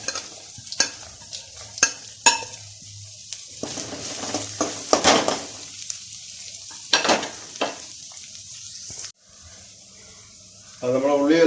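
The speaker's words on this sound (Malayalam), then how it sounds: "ഇനി നമുക്ക് ഒരു സവാള ഗ്രേറ്റ് ചെയ്ത് വെച്ചിരിക്കുന്നത് അത് ഇട്ട് കൊടുക്കാം." Grated onion frying in a pan, with scattered stirring scrapes and clinks over a low sizzle, then a steadier hiss toward the end, a voice talking at times.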